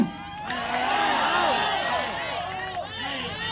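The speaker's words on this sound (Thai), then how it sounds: "พี่น้องตะโกนดังๆให้ผมได้ยินใช่ไหมว่าพี่น้องคนชนบุรี ไม่เอารัฐประหารอีกต่อไป" Crowd at a political rally in Chonburi shouting and cheering back in response to a speaker, a loud sustained mass of many voices that swells and then eases slightly.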